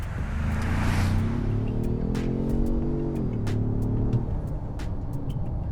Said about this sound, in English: Under the hood is a 2-liter inline-4 EcoBoost engine, of course, 250 horsepower, 277 pound-feet of torque